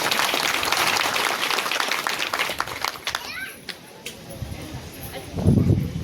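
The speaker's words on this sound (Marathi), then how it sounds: "त्या लेकरासाठी टाळ्या" Audience clapping for a child at a Guru Purnima gathering, a dense burst of applause that thins and fades midway, with people talking over it and a voice rising again near the end.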